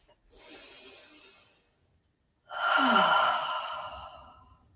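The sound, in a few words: deep breath during yoga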